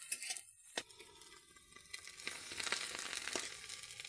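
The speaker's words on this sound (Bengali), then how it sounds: "এগুলো এখন ভেজে নিল, আবার উঠিয়ে নিচ্ছে বাটিতে" Food frying in hot oil in a home kitchen pan, a steady crackling sizzle running through with sharp clatters of utensils and a brief near pause before the frying resumes.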